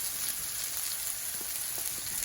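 Potatoes and eggplant sauté in a pan with a steady, dense sizzle that holds evenly throughout, close and fairly loud, with no voices.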